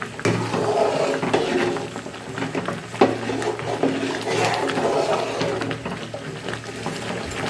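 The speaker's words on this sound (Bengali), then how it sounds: "এখন গুড়টাকে ভালো করে নাড়িয়ে নাড়িয়ে গলিয়ে নিচ্ছি" Date palm jaggery being stirred in a pot as it melts, a soft scraping and swishing with light bubbling and occasional clinks of the spoon against the pot, steady and close throughout.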